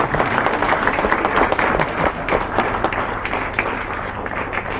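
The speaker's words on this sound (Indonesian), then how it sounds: "kita berikan tepuk tangan lagi ya" A studio audience at a TV comedy game show claps enthusiastically, producing close, continuous applause with crisp individual claps that stays loud from start to finish.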